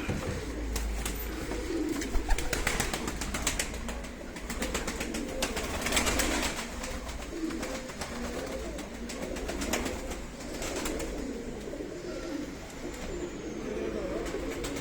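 Racing pigeons coo in a loft, soft repeated throaty calls rising and falling over a steady rustling background, with occasional sharper flutters close by.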